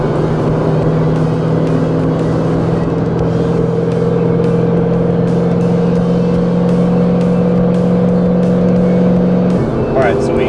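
A 2008 Ford Mustang Bullitt engine drones loud and steady as the car is driven hard down the road, with a continuous close-up roar and a slight change in tone near the end.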